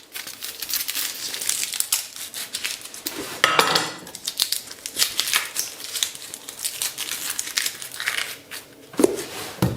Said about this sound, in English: So first, peeling some onions.